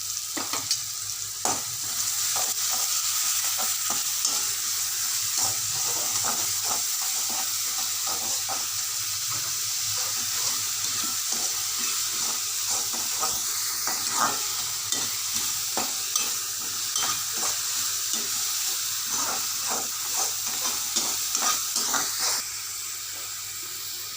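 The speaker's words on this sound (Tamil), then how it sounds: "வெங்காயத்தையும் நல்லா போட்டு வதக்கிடணும்" Two chopped large onions sauté in a pan for a mushroom omelette curry-style gravy, a steady close sizzle broken by a continuous run of scraping, clicking stirs for about twenty-four seconds.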